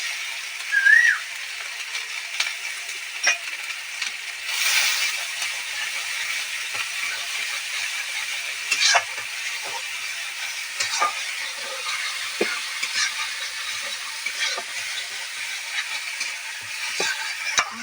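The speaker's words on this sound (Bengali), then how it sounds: "একটু কষি বাবা দিয়ে দিচ্ছি লঙ্কা বাটাটাও" Spices and red chili paste sautéing in a pan with garlic paste, with steady soft sizzling, scraping stirs and occasional utensil clicks throughout.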